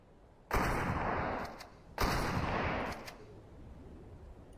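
Repeated gunfire from a video game pistol, two loud bursts of shots about a second and a half apart, each followed by a fading rumbling tail, with no talk.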